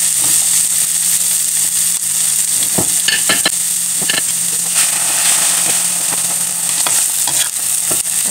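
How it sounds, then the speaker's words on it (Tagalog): Onions sauté in a pan for a home-cooked vegetable dish, giving a steady bright sizzle with scattered crackles and stirring scrapes, close and continuous with no talking. "Hintayin ko lang pong maluto ng konti yung sibuyas."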